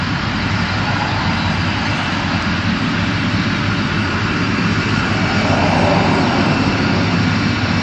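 Jet engines of a Cathay Pacific Boeing 747-412 roar during departure from Heathrow, a loud, dense and steady rumble that holds throughout with no voices over it.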